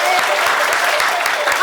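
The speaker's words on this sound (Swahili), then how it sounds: "Wapi shangwe, makofi na nderemo za One Faith Jepkoske." Studio audience breaks into applause and cheering for a featured customer, a dense, even wash of clapping that holds at full strength from start to finish.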